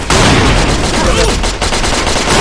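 Dense, loud gunfire from the online shooter Paperman, overlapping rapid shots and bursts filling the whole stretch without pause.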